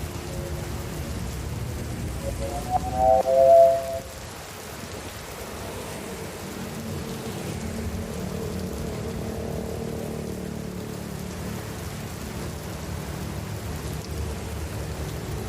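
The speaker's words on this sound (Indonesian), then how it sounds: "hujan mulu dah" Heavy rain pours in a steady broadband hiss, with a low rumble of thunder swelling briefly early on before the downpour carries on evenly without talk.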